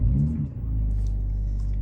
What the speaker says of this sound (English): So if I start the car up